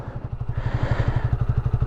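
A 2015 Honda CBR 125 R single-cylinder motorcycle idles with a steady, low, lumpy exhaust thump, close and fairly loud, no voices.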